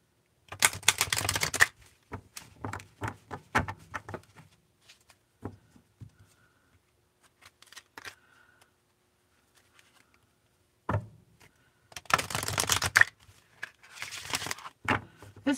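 A large deck of oracle cards with thin cardstock is shuffled in quick riffling bursts, near and crisp, separated by quiet pauses with small card taps and handling noises.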